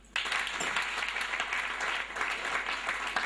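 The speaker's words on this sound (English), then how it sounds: "Clap your hands for me." At a grade 12 school farewell, the audience starts clapping abruptly and keeps up an even, sustained round of applause at moderate volume, filling the room with dense, overlapping claps.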